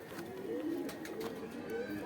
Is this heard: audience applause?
no